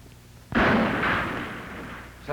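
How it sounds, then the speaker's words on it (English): A sudden loud explosion at a relay station in a 1940 western, bursting in after a quiet moment and rumbling on with a long, rough decay before a second blast begins. "That explosion sounded like it came from the relay station"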